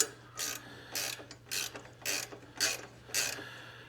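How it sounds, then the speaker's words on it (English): A hand ratchet clicks in six even bursts about half a second apart while a Hitch Doc motorcycle hitch is installed, close and crisp over a faint low hum, with no voices. "This is a ratcheted one."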